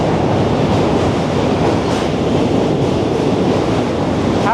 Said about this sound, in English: Testing the train noise.